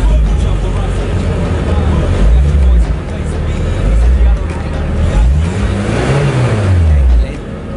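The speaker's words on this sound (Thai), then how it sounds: "นี่เลยค่ะรถสปอร์ต" A Lotus Elise sports car engine fires up and revs, rising and falling in pitch several times up close over a steady rumble, with someone talking over it.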